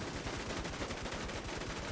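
Rapid gunfire in a video game, a dense continuous burst of shots with a tight rhythmic rattle, loud and close, alone without voices.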